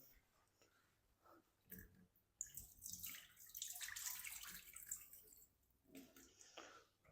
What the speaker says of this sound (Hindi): करेलों को अच्छी तरह आपने धो लेना है 2-3 पानी से।